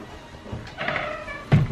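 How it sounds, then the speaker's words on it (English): A car door opens with a short mechanical thunk and creak, followed by a louder close knock near the end, heard up close with no talking. "I'm gonna open the door and around."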